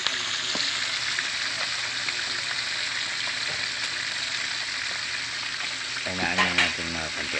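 Food frying in a pan and sticking to its surface gives a steady, close sizzle with faint stirring scrapes. A voice talks briefly over it near the end.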